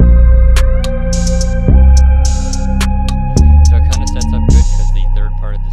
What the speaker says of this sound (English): It's delayed reaction lead 26, and it sounds like this with the chords in it.